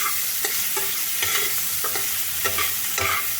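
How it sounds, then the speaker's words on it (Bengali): Chopped onions fry in a hot pan with a dense, close sizzle, broken by quick stirring scrapes that recur roughly every half second. "পেঁয়াজগুলো একটু সময় ধরে ভাজতে হবে"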